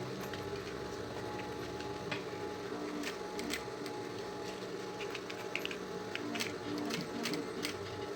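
A walking-foot, double-feed sewing machine with a size 23 needle stitches layers of synthetic leather for a school pencil case. It makes a steady, busy mechanical rattle with rapid ticking clicks that run through the whole stretch at an even level.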